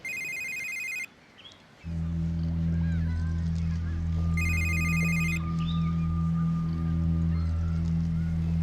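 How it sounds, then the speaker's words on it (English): A telephone rings in two bursts of repeated electronic trills, one at the start and another midway, over a steady low engine-like drone, with a brief quiet gap near the beginning. "Dude, your phone, you gonna get that?"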